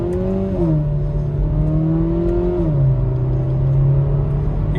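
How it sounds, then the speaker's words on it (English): A Hyundai i30 N-line 1.6-litre hot hatch with its exhaust open in sport mode accelerates through the gears, the engine note rising, dropping at each shift and rising again, loud and close amid road noise. "Exhaust sounds good."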